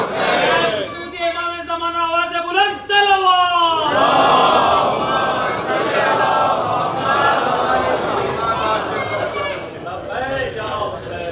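A large crowd at a majlis in Karbala chants "Labbaik" in unison, loud and close. Several rhythmic chanted calls come first, then the voices swell into a sustained roar of massed shouting that fills the rest of the clip.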